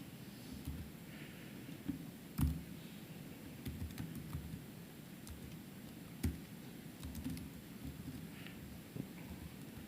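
Faint clicks of typing on a laptop keyboard tap out irregularly against a low background rumble, quiet and sparse with no talking.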